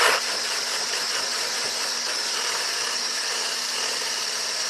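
A kitchen mixer with a whisk beats at high speed, a steady, fairly loud whirring hiss that starts abruptly and runs unbroken without talk.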